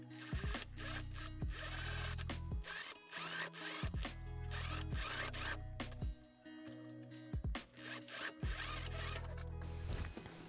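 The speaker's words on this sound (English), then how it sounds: "then we're just gonna sew this together as well" A sewing machine stitches dress fabric for a backless dress in repeated short bursts, each a close, buzzing run of needle strokes broken by brief pauses as the fabric is repositioned.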